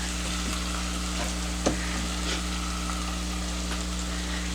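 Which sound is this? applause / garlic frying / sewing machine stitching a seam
garlic frying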